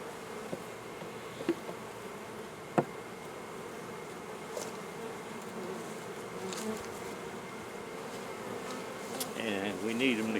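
Honeybees buzz steadily around an open eight-frame deep hive, a soft continuous drone with a few brief louder passes close by and faint talk at times.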